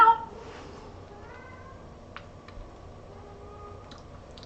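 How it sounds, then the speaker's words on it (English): A cat lets out a single short meow at the very start, close and fairly loud, followed by a quiet room with faint ticks and clicks. "Cat calling."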